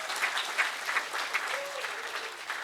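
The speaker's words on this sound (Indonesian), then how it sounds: "Boleh tepuk tangan dong." An audience breaks into steady, even applause, a dense wash of many hands clapping together at moderate distance, with no one speaking over it.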